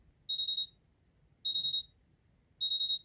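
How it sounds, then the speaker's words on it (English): Digital RGB alarm clock going off with three evenly spaced bursts of rapid electronic beeping, bright and clear against a quiet room. "let's go ahead and wait for the alarm to go off"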